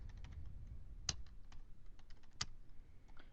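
Typing on a computer keyboard, a faint run of light, quick key taps with two louder, sharper strikes standing out, close and alone without speech.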